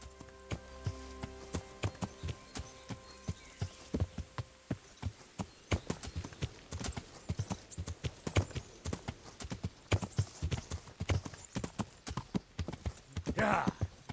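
Horse hooves clip-clop steadily in the medieval video game Kingdom Come: Deliverance, a regular walking rhythm of moderately loud hoof strikes with a brief whinny-like sound near the end.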